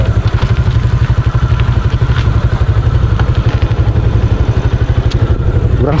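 Motorcycle engine running close by at night near a cemetery, with a steady rapid pulsing throb and mechanical clatter that stays loud and continuous throughout.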